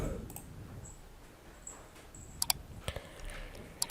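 A computer mouse clicks during a software installation in a quiet room: a few sharp, faint clicks, some in quick pairs.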